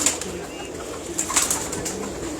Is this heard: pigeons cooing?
yes